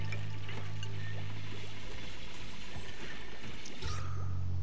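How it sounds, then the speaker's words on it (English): Water bubbles in the video game Oxygen Not Included, heard as soft liquid pouring and gurgling with faint mechanical ticking and a low steady hum underneath. "There, it's bubbling."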